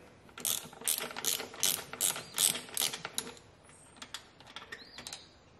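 A hand ratchet driving a half-inch socket on a bolt of a Harley-Davidson speedometer clicks in quick bursts of close, crisp pawl clicks, then trails off into a few sparse, softer clicks and small metallic taps.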